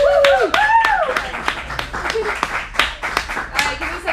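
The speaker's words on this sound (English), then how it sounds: "Round of applause!" An audience at a teen acting showcase claps in a quick, rhythmic burst of handclaps, close by, while voices cheer and call out over it.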